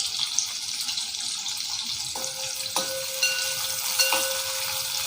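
Steady sizzling of onions frying in a hot pan for biryani, a dense hiss throughout with occasional light stirring clicks, no voices.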